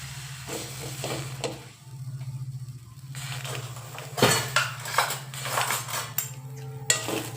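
Chillies roast in oil in a pan on a gas stove for a North Karnataka-style kempindi. A steady low sizzle and hiss runs beneath clattering spoon and pan knocks that grow louder and more frequent partway through.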